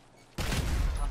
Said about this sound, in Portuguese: Todo mundo dando tiro pro alto, comemorando